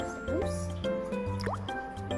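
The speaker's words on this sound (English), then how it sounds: "I'm going to add water first, because it has the most." Water trickles and drips into a bowl of cake batter in short gurgling bursts, close, with a low background hum.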